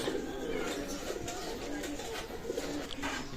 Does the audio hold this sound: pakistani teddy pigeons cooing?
yes